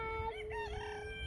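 A rooster crows nearby, one drawn-out cock-a-doodle-doo with clear rising and falling harmonic tones over faint outdoor background noise.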